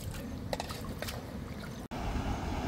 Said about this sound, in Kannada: ಕ್ಲೀನಾಗಿ ಅಕ್ಕಿ ತೊಳ್ಕೊತಾ ಇದ್ದೀವಿ.